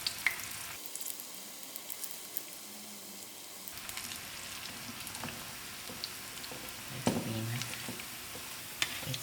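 South African style bhajia chili bites frying in oil, a faint crackling sizzle with scattered small pops and a brief low stirring or handling noise partway through.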